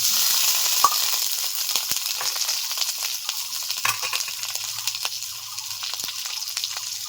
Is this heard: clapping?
no